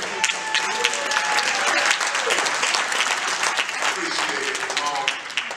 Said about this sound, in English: please don't clap or thank me for my responsibility